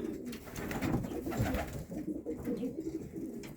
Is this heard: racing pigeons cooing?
yes